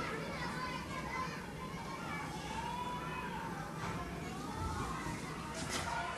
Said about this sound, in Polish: Słychać dzieci, bo pod nami jest szkoła.